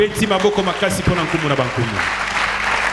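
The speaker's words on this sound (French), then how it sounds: "Acclamons très fort pour le roi." Church congregation applauding during a sermon, a dense burst of clapping mixed with cheering voices, close and loud for a few seconds.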